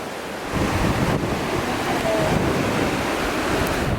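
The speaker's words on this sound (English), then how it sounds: "It's super windy on the beach today." Steady roar of wind buffeting the microphone over rushing surf on a beach in Thailand, continuous and loud throughout with no voices.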